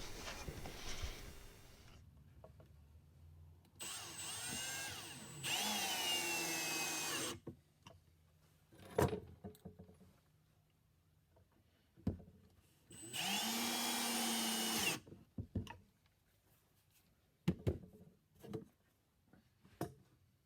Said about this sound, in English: We're going to get this glued and screwed here at the ends, and then we're going to put some more screws in the center to hold it in place.